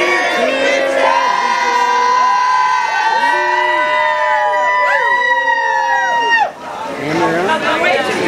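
A crowd at a bar aboard the Norwegian Breakaway cruise ship cheers together in a loud, sustained burst of whoops and shouts over continuous background chatter. A brief dip near the end is followed by renewed cheering.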